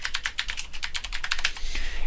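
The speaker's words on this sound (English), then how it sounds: "I can put in practice page for Dreamweaver, and then I can type some normal text." Typing on a computer keyboard while entering text in Dreamweaver, a quick run of close, crisp key clicks in an uneven rhythm with no voices.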